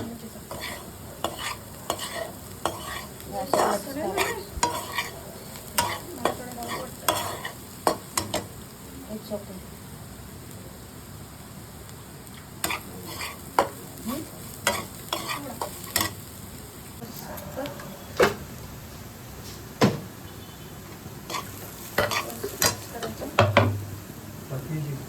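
Tempered chapati pieces are stir-fried in a pan, with repeated scraping spatula strokes in irregular bursts over a low, steady sizzle, close by and moderately loud for a long stretch.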